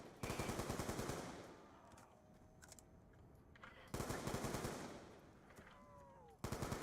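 Call of Duty Zombies gunfire on the Die Rise map comes in two rapid automatic bursts of loud, closely spaced shots separated by a quieter stretch, then a third burst starts at the end.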